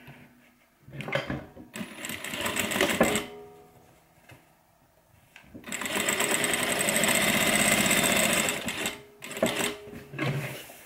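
A sewing machine stitches a messenger bag, its close mechanical whirr running in short bursts with pauses, then one longer steady run of stitching, no voices.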